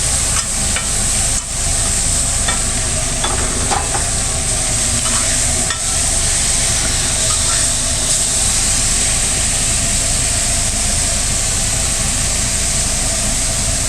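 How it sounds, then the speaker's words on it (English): Cajun seasoned onions and grilled sausage sizzle on a hot grill, a loud, constant hiss close up with occasional scrape and tap from a utensil. "Ooh wee, you smell those Cajun seasoned onions. Got that sausage, some grilled sausage."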